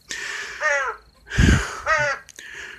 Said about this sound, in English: I'm taking care of a friend's crow.